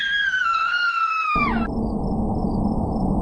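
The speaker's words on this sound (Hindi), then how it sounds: "तभी पोखर से अचानक एक आवाज आती है, स्त्री की चीख और फिर घुटती हुई आवाजें।" A woman's high, wavering scream rises from a pond in an animated horror story, falling in pitch over about a second and a half before giving way to a rough, noisy gurgling rush.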